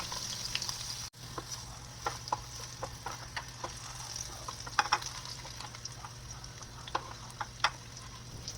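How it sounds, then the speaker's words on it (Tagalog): Carrots fry in a pan with a quiet, steady sizzle, dotted with occasional ticks and light scrapes of a utensil. "Prituhin lang din natin yung carrots guys"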